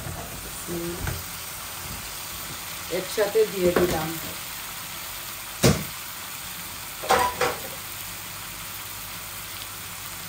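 Courgette and eggplant pieces sizzling as they drop into a hot frying pan, with a quiet steady hiss broken by a few short bursts of stirring and clattering, and someone speaking briefly.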